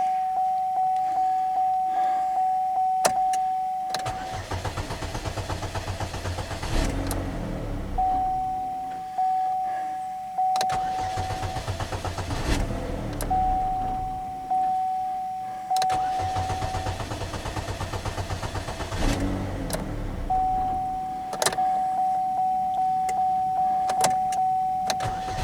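A 2009 Chevrolet HHR with a starting problem cranks repeatedly without catching, several long starter grinds separated by pauses, with a steady warning chime sounding between attempts.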